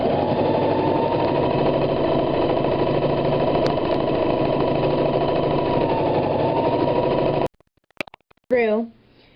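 A sewing machine stitches hair wefts in a steady, loud continuous run for about seven seconds, then stops abruptly, followed by a few faint clicks and a brief burst of handling noise.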